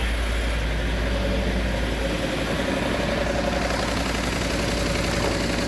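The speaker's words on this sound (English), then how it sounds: "It's gonna start misfiring pretty quickly. It's running like poopy." A 2018 Ford F150 5.0L V8 with a cam timing fault, stuck fully retarded, runs rough and misfires: a steady, loud, uneven idle rumble with a low lumpy throb, close by and without talk.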